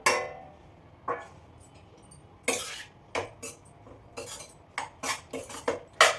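A metal spoon scrapes and clinks against a steel bowl while chili powder is stirred into a cauliflower pickle, several sharp irregular clanks spaced through the stretch, close and clear with no talk.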